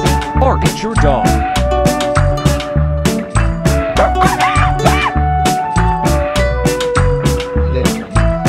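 A dog barks, yips and whimpers loudly and close by in rapid bursts, with howl-like cries mixed in and no clear talk.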